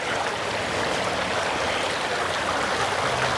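Creek water flowing steadily near a baseball field in Windsor, a constant dense rushing hiss with no breaks, close and fairly loud, with no voices.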